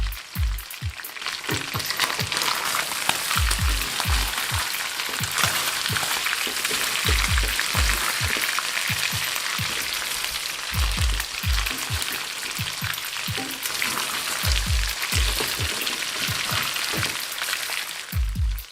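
Chicken pieces frying in a karahi for Peshawari charsi chicken karahi, browned and crisp on the outside, give off a loud, steady sizzle throughout, broken by repeated low knocks and scrapes of stirring.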